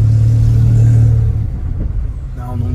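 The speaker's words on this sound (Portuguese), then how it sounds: "Olha o barulho que tá fazendo, mano, do escape batendo." Volkswagen Up TSI with 206,000 km and a Nova Race exhaust: a loud low engine drone that drops off, followed by uneven rumbling and knocking from the exhaust, with a voice talking over it.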